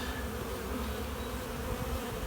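A strong honey bee colony buzzes over brood frames, a close, continuous drone of many insects that holds steady for a couple of seconds with no voices.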